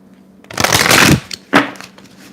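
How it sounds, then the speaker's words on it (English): A close, crisp riffle of tarot cards being shuffled, one long flurry followed by a short second burst, in an otherwise quiet room. "This is the little pre-shuffle."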